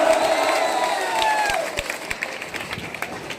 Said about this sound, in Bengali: জোরে হাততালি হোক জোরে হোক